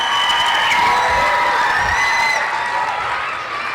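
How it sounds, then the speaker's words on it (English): Audience at a school talent show breaks into loud, sustained applause with cheering and whoops, a dense crowd roar filling the room that eases slightly toward the end. "give just another huge round of applause for the bravery of everybody who stood up"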